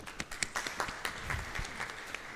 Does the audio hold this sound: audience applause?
yes